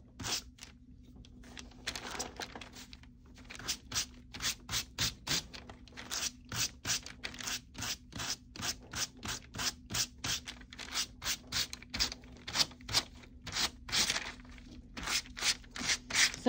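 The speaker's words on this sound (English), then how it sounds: "You can also use a comb to brush these out too" A comb is pulled through a fringe of macrame cord in a long series of quick, rhythmic scratchy strokes. It sounds close and fairly quiet against a low steady hum.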